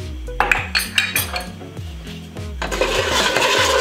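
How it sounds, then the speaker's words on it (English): A utensil stirring sugar into a pot, steady scraping and clinking strokes in an even rhythm, close by and fairly loud, with no voices. "Then you're gonna stir it."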